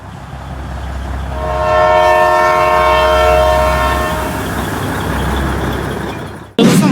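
Matheran toy train on the hill railway sounds a long, loud horn blast over the rumble and clatter of the moving cars, then the noise cuts off abruptly near the end.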